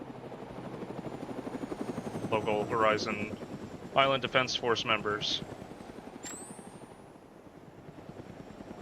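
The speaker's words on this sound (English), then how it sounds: "Those 2 helicopters are en route." Two helicopters flying in within the video game Arma 3, a steady rotor drone rumbling beneath someone talking, with the chopping fading slightly toward the end.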